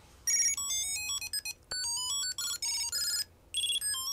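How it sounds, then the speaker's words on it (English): A phone alert ringtone triggered by an Innway Accent smart wallet tracker, a rapid chiming electronic melody of bright stepped notes in several short bursts with brief gaps, close and clean with no talking. "The phone alert."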